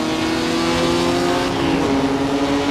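A Formula 3 race car in Assetto Corsa on the Nordschleife's southern loop accelerates flat out, its engine a loud, steady, high-revving drone that climbs slightly with a brief shift dip, no talking.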